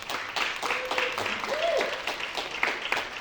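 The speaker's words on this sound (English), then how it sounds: "And I just want everybody to give themselves a hand clap for being here." Audience members at an epilepsy awareness event clap for themselves, a steady patter of applause throughout, with voices calling out over it.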